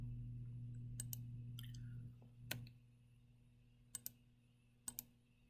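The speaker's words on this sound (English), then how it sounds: "I'm going to use the delete button on the keyboard." Computer keyboard keys pressed during AutoCAD work, a few sharp isolated clicks, some paired, spaced over several seconds against a steady low electrical hum.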